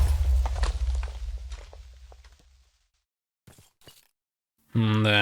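In the Minecraft video game, mobs walk and trample with soft, rapid footsteps that fade away, then a few faint steps follow after a pause, and a voice starts speaking at the end.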